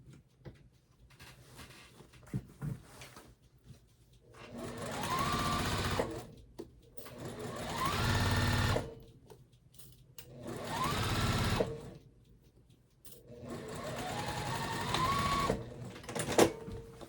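A sewing machine stitches a summer shirt in four bursts of rapid, whirring needle strokes, each a few seconds long, separated by quiet pauses with small clicks. It is close and alone, with no talking.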